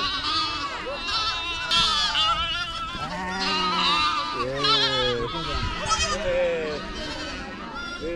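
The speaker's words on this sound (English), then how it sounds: "The sheep are coming now." Many sheep bleat repeatedly as a flock enters a Maasai village in Africa, overlapping and close by, wavering cries rising and falling, with voices talking underneath.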